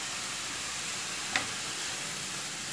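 Chopped carrot and French beans frying in a pan over a high flame, giving a steady soft sizzle with a single brief utensil tap near the middle.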